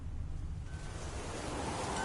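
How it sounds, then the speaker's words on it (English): Wind gusting steadily across an open rural area beside an orchard in a video game, a dense continuous rushing hiss with no other sounds. "Winds howling."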